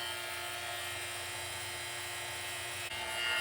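Steady electric vacuum pump running on a kydex vacuum press for holster making, a constant hum with a buzzing whine held at even level throughout, no talk over it.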